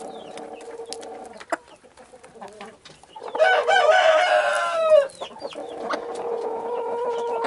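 Chickens cluck and squawk while eating dry feed from a double-sided feeder, a louder burst of fowl calls in the middle over a steady farmyard background.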